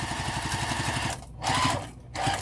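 A sewing machine stitches a crossbody bag near the pocket, running in short bursts with quick pauses as it back stitches and turns, close and steady.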